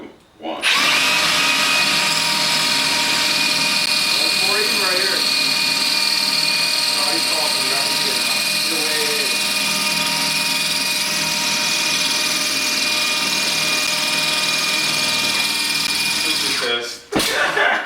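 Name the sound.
Milwaukee M18 Fuel rotary hammer running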